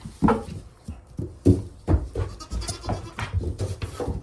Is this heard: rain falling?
no